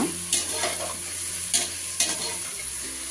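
Mushrooms fry in a pan for biryani, a steady sizzle broken by three or four sharp spoon scrapes and clinks against the pan, close and clear, with no voices.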